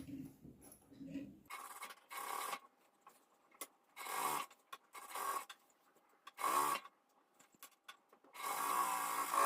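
A sewing machine stitches the cuff of an Afghani salwar in short bursts of rapid mechanical whirring separated by pauses, close and fairly quiet, with a little soft speech early on.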